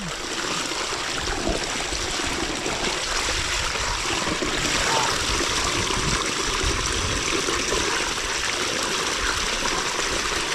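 Running water washing freshly dug ube purple yam, a constant close splashing rush with no breaks throughout.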